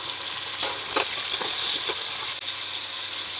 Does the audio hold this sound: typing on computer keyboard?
no